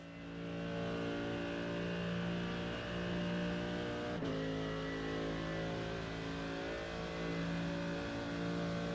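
Race car at full throttle on the Nürburgring during a 24-hour race team lap, a steady loud engine drone with strong harmonics holding high revs throughout, one brief sharp click or gear-change break midway.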